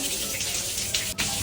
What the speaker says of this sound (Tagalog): Nag-overflow yung tubig dito